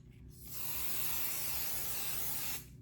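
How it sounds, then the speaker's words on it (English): A steady aerosol of quilt basting spray hisses for about two seconds, close and even, starting and stopping abruptly. "I'm gonna take some batting spray, and I'm just gonna spray a little bit here."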